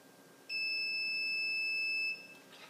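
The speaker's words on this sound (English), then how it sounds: "And there's the second beep." An LTech T4 lighting controller gives its second zone-reset beep, one long steady electronic tone of about a second and a half, loud and close, alone over quiet room hiss.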